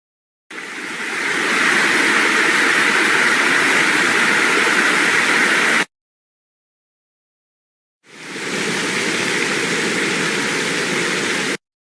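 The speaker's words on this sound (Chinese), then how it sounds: "就是瀑布声，我也需要它的音效。" A royalty-free waterfall effect, a loud, steady rushing roar of falling water that plays for about five seconds, cuts to silence, and then returns for a second run of similar length.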